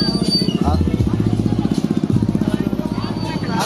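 A motorcycle engine idles with a steady, rapid pulsing putter through its exhaust pipe at a busy secondhand parts market in Tondo. The engine runs close by while people talk over it.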